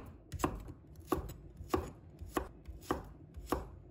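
A kitchen knife slices garlic cloves on a cutting board, giving six evenly spaced crisp chops about half a second apart, close and fairly quiet with no talk.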